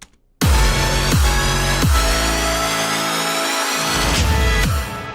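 Full electronic mix of a track: bright, dense synths over booming bass hits that land in a steady pulse, loud and up front with no talking, easing slightly at the very end.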